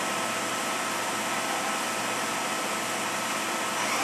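The spindle of a Daewoo ACE-H100 horizontal machining center whirs at a steady 2,000 RPM, a loud continuous broadband whine and rush of air heard close up.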